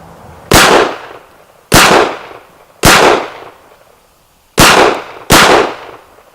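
A Sig P226 Mk25 pistol fires five loud, close shots at steel targets, spaced irregularly with a quick pair at the end, each a sharp crack with a brief ringing decay.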